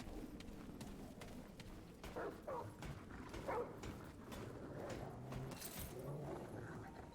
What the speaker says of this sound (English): I just hear a dog.